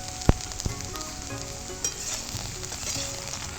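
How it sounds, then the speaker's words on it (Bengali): Okra frying in hot mustard oil with turmeric and salt, a loud close sizzle with sharp stirring scrapes and taps early on. "এবার ভেন্ডিটা ভালো করে একটু ভেজে নেব।"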